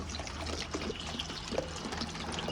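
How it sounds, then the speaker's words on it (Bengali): Water poured into a pan of spiced, sautéed potatoes for a fish curry, a soft continuous trickling and splashing close by, fairly quiet throughout. "এবার দিয়ে দিচ্ছি পরিমাণ মতো জল।"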